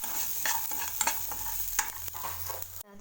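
Ginger frying in a pan for a chana dal paratha filling, a steady close sizzle broken by scraping stir strokes, ending abruptly.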